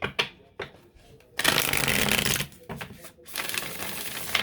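Cards being shuffled up close: a few sharp taps, then two long riffling bursts of rapid fluttering.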